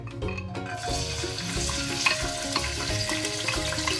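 Soaked raisins and cashew nuts frying in about four tablespoons of ghee in a vessel, a close bubbling sizzle with small spatters and a faint background hum.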